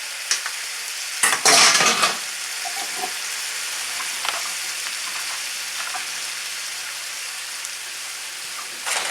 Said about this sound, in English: I'm just going to add my pasta to this now and stir it all up